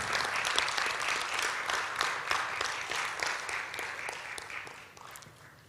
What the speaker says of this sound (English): please give a big round of applause for our agreements